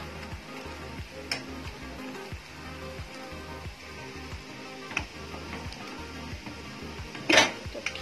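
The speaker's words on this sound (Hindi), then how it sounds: "तो ये देखिए, प्याज अच्छे से फ्राई हो गई है।" Onions frying in a pan for kheema aloo patties give a faint, steady sizzle with occasional sharp utensil ticks and clinks.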